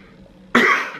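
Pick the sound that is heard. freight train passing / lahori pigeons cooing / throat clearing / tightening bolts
throat clearing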